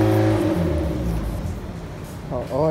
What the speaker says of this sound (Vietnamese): nổ máy di chuyển xe vô